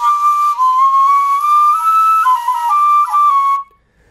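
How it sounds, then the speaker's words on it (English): A Chinese dizi flute is played with its extra membrane hole left uncovered, giving a thin, breathy whistling tone that holds and then shifts through several pitches before cutting off abruptly. "When that hole is uncovered, it sounds like this."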